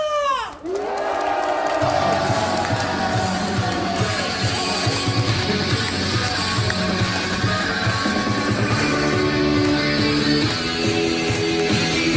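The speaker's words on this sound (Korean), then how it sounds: "힘차게 승리의 함성 박수 준비 시작!" A rally crowd at a labor protest speak-out raises a loud victory shout with clapping, then cheering and applause continue under music that starts up almost immediately and carries on to the end.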